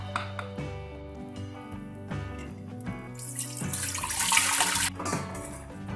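Tap water gushes into a kitchen sink to rinse a pot of beans, a continuous splashing wash that swells louder midway over a bed of background music.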